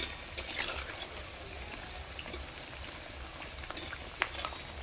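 Palm jalebi frying in hot oil makes a soft, continuous bubbling sizzle with a few faint pops, steady and fairly quiet, heard alone without talk.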